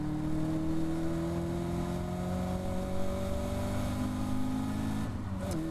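A Caterham Academy race car's engine drones steadily and loud through the chicane at Thruxton, its pitch sliding as it brakes and changes gear, with a brief sharp sound near the end.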